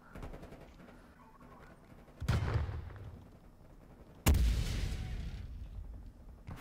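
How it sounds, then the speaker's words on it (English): Two heavy blasts ring out in Call of Duty Cold War, each a sudden loud boom with a rumbling tail, set against a low murmur of distant gunfire and battle noise. "Yeah, it's exploding. I just see flames popping up."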